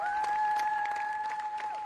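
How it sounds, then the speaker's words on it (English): A crowd gathers to clap for terminated State Department workers as they leave the building. The applause is faint and distant, mixed with a steady high tone. "They gathered there to clap for the terminated workers as they exited the building today"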